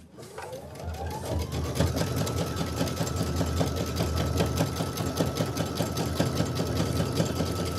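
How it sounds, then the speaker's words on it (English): A multi-needle embroidery machine stitching, spinning up and settling into a rapid, steady mechanical chatter with a constant hum, loud and close throughout. "This is 5 minutes of stitching. My multi-needle just stopped."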